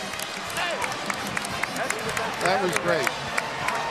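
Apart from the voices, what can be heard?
basketball arena crowd applauding both teams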